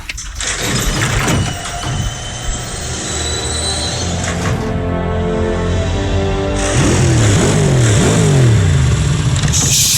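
Motorcycle engine revving loudly up and down in rising and falling sweeps, close and prominent, with a brief dip in the middle before a stronger rev.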